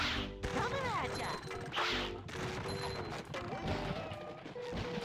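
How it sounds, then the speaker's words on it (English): Explosion in the video game SpongeBob Battle for Bikini Bottom, a loud crashing burst among clanking cartoon effects and jingling pickup chimes, with a voice speaking over the game sounds. "Time for a explosion!"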